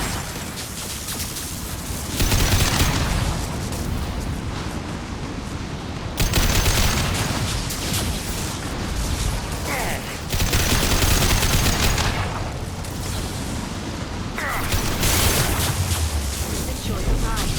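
Sustained gunfire from combat weapons during a firefight in the video game Mass Effect 2, heavy and close, arriving in four long, loud bursts of rapid shots with booming impacts and brief lulls between them.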